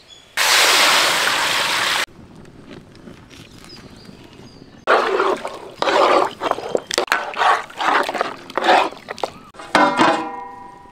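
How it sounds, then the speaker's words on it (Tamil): Water poured into a pan of beef bone marrow pieces for a masala: a loud, steady two-second pour up front, then irregular splashing and sloshing bursts close by with no talk. "நல்லி முங்குற அளவுக்கு தண்ணி ஊற்றி நல்லா வேக வச்சுக்கலாம்."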